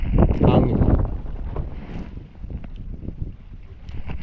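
Wind blows across a fishing boat at sea, a loud buffeting gust at first that eases into a steady, rough rushing noise.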